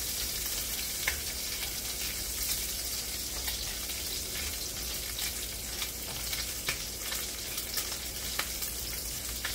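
Bacon sizzles and fries steadily in a kitchen, a soft continuous crackle with scattered small pops. No one speaks over it.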